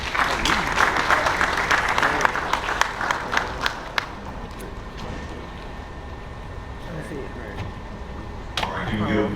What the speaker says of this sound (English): can we give Randolph another round of applause?